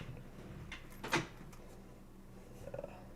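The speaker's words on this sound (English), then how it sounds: "Get this drawer closed." A drawer slides shut with one brief, sharp thud in a quiet indoor room, followed by a few faint knocks.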